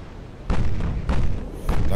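Naval guns fire in the warship battle game Ultimate Admiral Dreadnoughts, with three deep booming blasts spaced about half a second apart over a low rumbling battle background.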